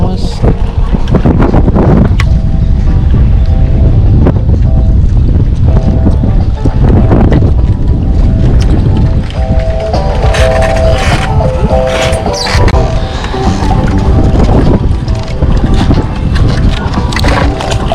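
Strong wind at a fishing pond buffeting the microphone in loud, heavy rumbling gusts, with faint voices and scattered small knocks underneath.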